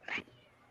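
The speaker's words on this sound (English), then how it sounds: "My cat." A single short, faint meow from a cat, followed by quiet room noise.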